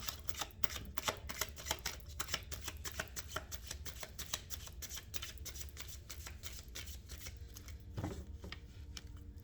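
Tarot cards being shuffled and drawn in a steady run of crisp, close riffling flicks and slaps, each card snap distinct and rapid, continuing without talk.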